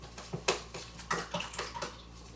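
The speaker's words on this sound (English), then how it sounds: "Beat the brush into the water." Paintbrush beaten against the inside of a water cup during acrylic painting, a series of sharp splashy knocks and sloshes in irregular rhythm, close and distinct with no voices.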